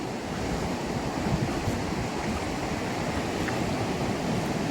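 Surf rolls onto Las Lajas Beach in Panama in a continuous broad wash of waves, steady and moderately near, with some wind noise and no voices.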